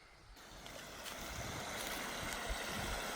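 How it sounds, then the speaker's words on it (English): Flood water drains steadily into a culvert on rural land in France, a soft continuous rushing and gurgling that swells slightly over a few seconds. "The water is draining out nicely into the culvert."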